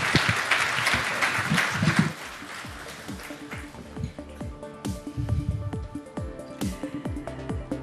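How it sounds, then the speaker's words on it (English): At a business economy summit, a conference hall audience gives an executive a warm round of applause that starts full for about two seconds, then thins to scattered individual claps with a brief swell midway. "Can we have a warm round of applause for Sunil Bharti Mittal?"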